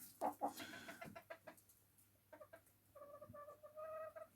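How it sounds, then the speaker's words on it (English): Chickens clucking nearby in short, uneven bursts, with a few louder squawks early on and a steadier run of clucks toward the end; no talking. "Take it easy, chickens."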